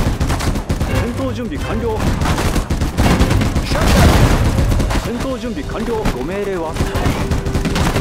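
Rapid bursts of gunfire, dense and loud, with synthetic game effects while voices speak in Japanese over the shooting, from the war game Sudden Strike 4: The Pacific War.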